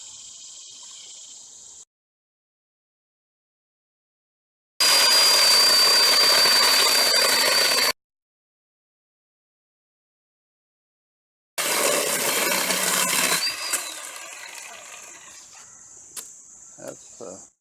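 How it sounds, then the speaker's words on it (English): A Black and Decker cordless 20V lithium chainsaw with a 10-inch bar cuts a log at a campsite in loud bursts of high motor whine, with gaps of silence between them. The last burst winds down into scattered clicks. "you can run your little 10-inch saw out"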